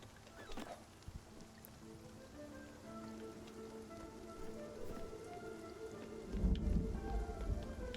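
Steady rain pattering throughout a lightning storm in the Spiritfarer video game, with a low rumbling swell of thunder near the end and soft game music underneath; no talking.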